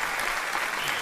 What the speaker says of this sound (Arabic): صفقوا لينا لمحمد خياري